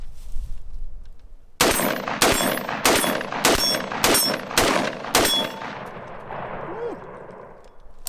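A 7.62x39 rifle fires seven sharp, loud shots in a quick, fairly even sequence, each with a short ringing tail, followed by a fading echo and a brief cheer from a person nearby.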